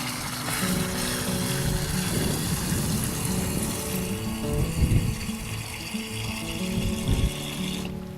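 A garden hose runs into a 2-gallon pump sprayer, filling it with water in a steady, loud, unbroken rush and hiss under a low hum, without speech.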